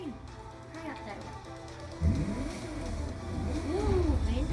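A vintage car's engine in The Crew 2 revs up and down in rising and falling sweeps, getting louder toward the end over a steady low rumble.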